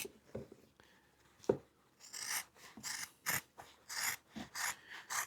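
Scissors snipping through upholstery fabric close beside a thread, a series of quiet, close crisp cuts in an uneven rhythm, the strokes growing quicker and more regular in the second half.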